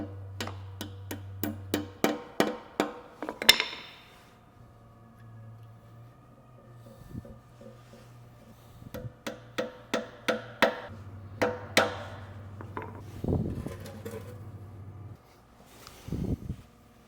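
A hammer taps dowel pins into a DSG-to-K24 engine adapter plate in a workshop, bursts of sharp metallic strikes in quick runs separated by pauses, over a low steady hum.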